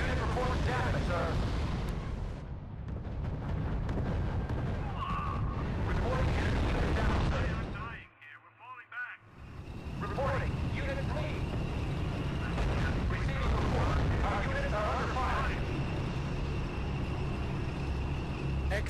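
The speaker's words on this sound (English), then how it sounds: "Sir, the Field Artillery Battalion is opening fire." Artillery booms from a field artillery battalion in R.U.S.E., heavy and continuous, with rumbling blasts mixed under radio voices. The noise drops out briefly midway, then the barrage resumes at full loudness.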